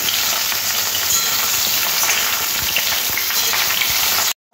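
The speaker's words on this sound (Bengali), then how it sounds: "বেগুন আর আলু এরকম লাল করে ভাজতে হবে।" Potato and eggplant pieces fry in a pan with a steady, close, loud sizzle and occasional stirring scrapes, running continuously before cutting off abruptly near the end.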